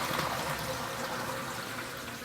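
Boiled potatoes and their water are poured into a boat's galley sink, a steady rushing splash of water that stays loud and continuous throughout.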